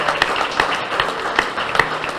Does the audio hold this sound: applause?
yes